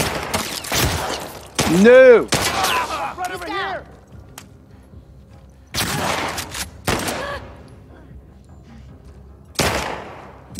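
Gunfire in The Last of Us Part II: several loud, sharp bursts of shots spaced across the scene, with a shouted voice and speech between them.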